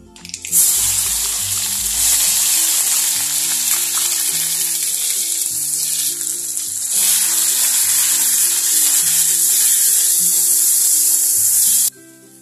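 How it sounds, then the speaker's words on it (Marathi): A ground spice paste fries in hot oil with a steady, close, loud sizzle that continues unbroken for about eleven seconds, with soft background music underneath and no talking. "हे वाटण तेल सुटेपर्यंत भाजून घेणार आहे."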